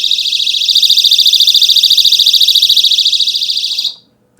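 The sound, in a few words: MecArmy SGN5 flashlight personal self-defense alarm sounding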